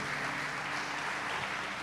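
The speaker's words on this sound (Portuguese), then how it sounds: "Você pode aplaudir o Senhor?" A church congregation applauding the Lord during a family worship service, a steady, soft, distant wash of clapping with no pauses.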